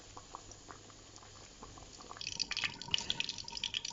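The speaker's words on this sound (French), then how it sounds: "pendant que les pâtes sont en train de cuire" Water boiling in a pot of cooking pasta, faint bubbling at first, then livelier popping and dripping bursts grow louder toward the end, heard close with no voices.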